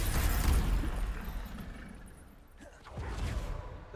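Spell explosions from a Bombarda cast in Hogwarts Legacy, a dull booming burst followed by a rumbling tail, with a second softer blast near the end amid game noise.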